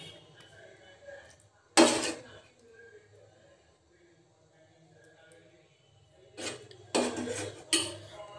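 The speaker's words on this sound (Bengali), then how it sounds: "এবার এটা একটা অন্য পাত্রে ঢেলে আমি এটাও সরিয়ে দেবো এখান থেকে।" Metal pots and utensils clatter as semai vermicelli pudding is poured into another pot in a home kitchen, with two bursts of clinking and scraping separated by quieter handling.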